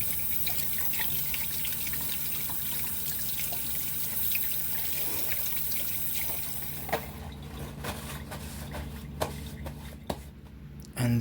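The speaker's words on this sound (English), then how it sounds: "Now go and wash your fucking hands." Water runs from a sink tap while hands are washed, a steady close splashing stream for most of the stretch, then thins to scattered drips and a few clunks as the flow stops.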